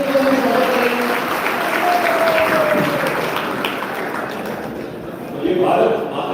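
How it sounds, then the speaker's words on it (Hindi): Audience applause welcomes a speaker to a youth gathering held by a deputy chief minister in Chhattisgarh. The dense, steady clapping fills the hall and carries on under a speaking voice, then swells again near the end. "जोरदार ताली बजाकर अभिषेक जी का स्वागत करें"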